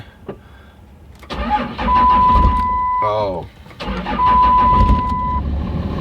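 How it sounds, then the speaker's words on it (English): A Cummins diesel truck engine cranks in two long grinding bursts with a brief pause between them, loud and close. It catches into a rough idle, with a short spoken exclamation between the attempts. "So let's try and fire her up here."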